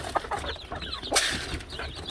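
Farm chickens cluck in short, close bursts while being fed, with a brief flurry of louder activity midway and no talk.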